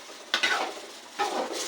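Mutton lungs frying in a pan, with two bursts of stirring and scraping against the metal over a steady low sizzle, close by and with no one talking.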